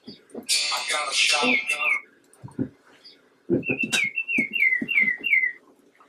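Birds chirp in a quick series of repeated high, whistled notes, fairly clear and close, heard over people talking in a school board meeting room.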